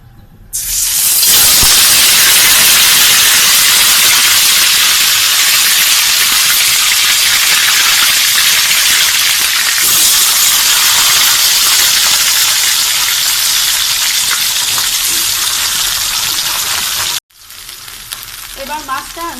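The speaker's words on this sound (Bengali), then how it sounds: "এবার মাছটা আমি এপিট ওপিট ভালো করে ভেজে নেব।" Rui fish dropped into hot oil sets off an instant loud, dense, hissing sizzle that stays strong and close for about sixteen seconds, then cuts off abruptly before a quieter sizzle resumes.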